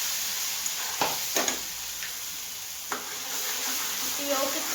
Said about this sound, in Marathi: 5 मिनिटे हलवून घेणार आहोत